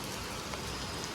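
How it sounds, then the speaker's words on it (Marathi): Steady rain pours down, a dense, even hiss of drops with no pauses. "मस्त चालू आहे पाऊस"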